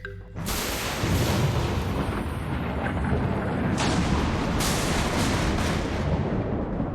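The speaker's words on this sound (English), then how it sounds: "I'm going to hit a battery with some electricity, or with some lightning" Lightning strikes a battery in The Universim, a loud, sustained crackling boom of electrical discharge that roars for several seconds with sharp bursts near the middle, with no talk.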